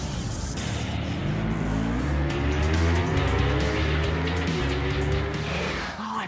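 Motorbikes race in the video game Ride, engines roaring loudly and continuously with rising and falling pitch and tire squeal as machines pass close by.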